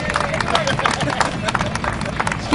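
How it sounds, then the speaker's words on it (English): A crowd at a NASCAR Speedpark event applauds a team, dense steady clapping close by that carries on throughout, with some voices mixed in. "let's get a round of applause for Best Better Brands Shake and Bake Team"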